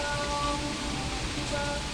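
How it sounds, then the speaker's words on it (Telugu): Rain falls steadily outdoors in a natural setting, a continuous close hiss of drops on surfaces lasting throughout, with no voices. "వర్షం పడుతుందా?"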